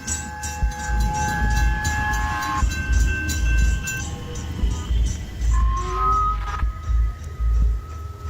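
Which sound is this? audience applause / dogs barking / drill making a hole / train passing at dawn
train passing at dawn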